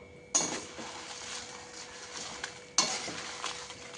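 Red chillies fry in a kadai as a metal spoon scrapes and clinks against the pan twice, over a steady soft sizzle.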